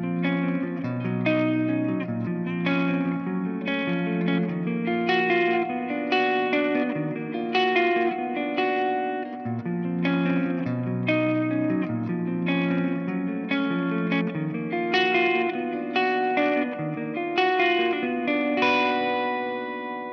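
Electric guitar through DiMarzio Occult Classic bridge and neck pickups with heavy distortion plays a steady, dense run of chugging chords and notes for about twenty seconds, loud and continuous with no talking.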